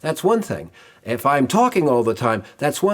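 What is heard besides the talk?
No everyday noises stand out.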